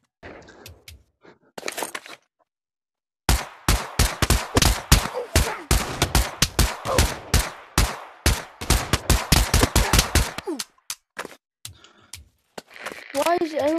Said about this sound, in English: Why is everyone shooting at each other?